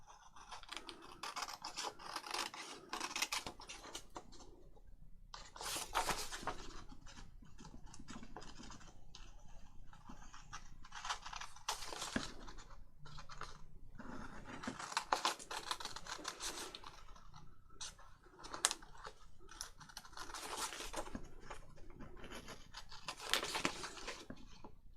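Scissors snipping through paper for a junk journal, repeated dry scratchy cuts in bursts with pauses between, quiet and close, no talk.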